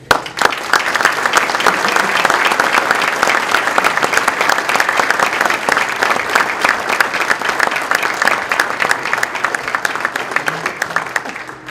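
Sustained applause from an audience at the Tinley Park business breakfast greeting Mayor Ed Zabrocki, a dense, even clapping that runs on for about ten seconds before tapering off.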